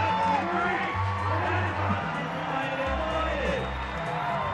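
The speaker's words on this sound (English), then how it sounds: "look at that crowd. They're going wild" A large crowd cheers and whoops wildly at the 2017 IFSC Climbing World Cup bouldering finals in Vail, a steady roar of voices filling the arena with a commentator talking over it.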